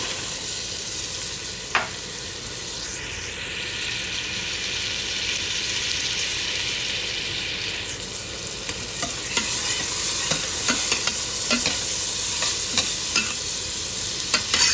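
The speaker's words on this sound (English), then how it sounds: "Just give it a quick stir." Dried fruits, raisins, sultanas, almonds and pistachios, sizzle in melted butter in a pot, stirred with a loud, steady hiss and scattered clinks and scrapes of the spoon.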